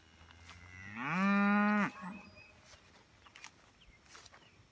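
A cow on a farm gives one loud, drawn-out moo of under a second, close by. Quieter rustling and footsteps follow in the field.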